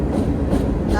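A long freight train rolls past in the dark, a brief continuous low rumble with light wheel clatter, close and fairly loud.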